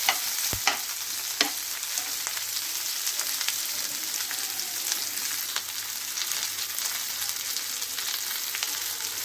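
Thinly sliced onions frying in hot oil make a steady, close sizzle with soft crackles and a few sharp stirring clicks, with no voices.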